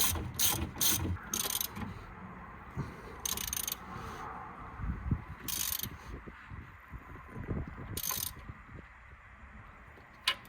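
A ratchet tightening a nut on a Ford Focus Mk2 1.6 TDCi during brake and suspension work, several quick bursts of close, loud clicking with quieter metallic handling between them.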